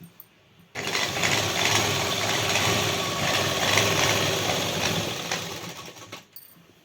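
Electric sewing machine stitching a pant leg seam, a fast steady mechanical whir close by that starts abruptly, runs about five seconds and stops.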